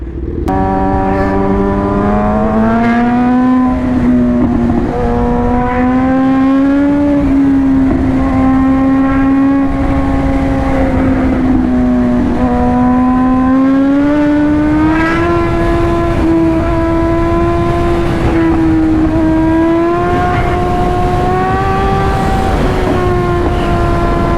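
A car engine revs loudly and continuously on an airstrip, its pitch climbing, dipping and climbing again over a long stretch with no voices.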